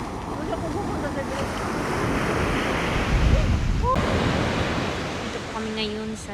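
Sea waves wash onto a countryside shore in the Philippines, a steady broadband surf roar with gusting wind over the microphone and a swell in the middle, while faint voices and a brief tone drift in near the end.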